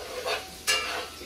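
Vegetables coated in tomato paste are stirred in a pot, giving two brief scraping, sizzling sweeps close by with a soft fry underneath.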